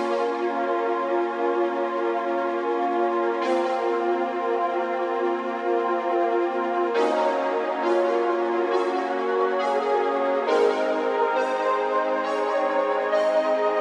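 Two synth sounds layered together play a slow chordal melody, a soft pad beneath brighter plucked attacks at each chord change, steady and alone.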